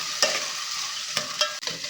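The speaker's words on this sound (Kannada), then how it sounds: "ಲೋ ಫ್ಲೇಮಲ್ಲಿ ಇಟ್ಟು 1-2 ನಿಮಿಷ ಚೆನ್ನಾಗಿ ಫ್ರೈ ಮಾಡ್ಕೊಳ್ಳೋಣ" Field bean lentils frying on a low flame in a pan, with a gentle continuous sizzle broken by a few quick stirring clinks.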